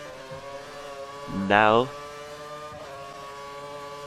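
A Formula 1 car engine in the F1 2013 racing game at Spa howls upward through a quick rising rev, loud and brief, over a steady engine drone, with someone talking over it.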